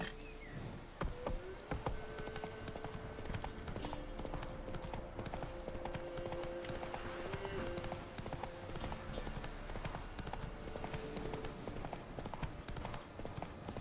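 Roach, the horse in The Witcher 3: Wild Hunt, gallops with a steady, rapid clip-clop of hooves that keeps going throughout, over faint game music.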